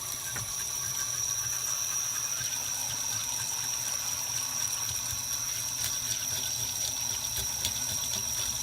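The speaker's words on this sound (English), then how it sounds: "I hold the fish by the tail, turn the water on," Running tap water pours steadily into a kitchen sink as a fresh fish is scaled under it, a continuous close hiss with no talking.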